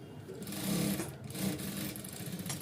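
A sewing machine stitching a straight seam joining ankle-length pencil pants, running steadily and close with a continuous whirring hum for the whole stretch, no talking.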